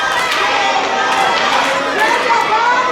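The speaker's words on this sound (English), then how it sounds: "as the crowd lets Ox hear it" Wrestling crowd at a Revolt Pro Wrestling show shouting at the wrestler Ox, a dense continuous wall of crowd noise and overlapping voices holding steady throughout.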